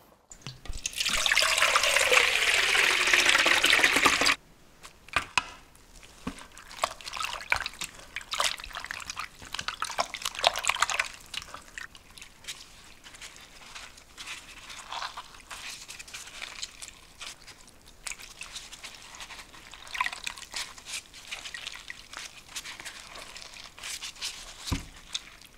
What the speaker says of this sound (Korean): 여러분 찬물에 헹궈서 꽉 짜주셔야 됩니다